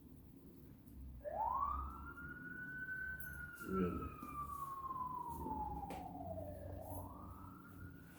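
An ambulance siren wails in a long rising and falling sweep as it passes at a moderate distance over low traffic rumble, with a brief spoken word partway through.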